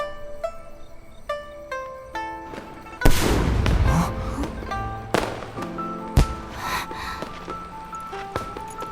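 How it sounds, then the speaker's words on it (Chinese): Fireworks bursting for a city festival in Siam City: loud crackling blasts erupt around three seconds in and again near six seconds, sharp and fairly close, rising over steady tonal music with lighter pops scattered between. "这是烟花的声音。"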